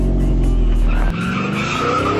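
A car peeling away with skidding tires: a loud, continuous screech over a low engine roar, the engine dropping out midway while the squeal carries on, with no talk.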